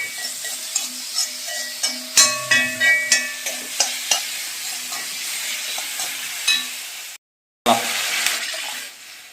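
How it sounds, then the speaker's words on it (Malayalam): Spinach sautéing in a pan for rava upma gives a steady sizzle, broken by a quick run of repeated scraping and stirring clinks, then continued frying with a brief silent break near the end. "നല്ലോണം ഇളക്കി വഴറ്റിയെടുക്കാം"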